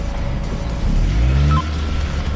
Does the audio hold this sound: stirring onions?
no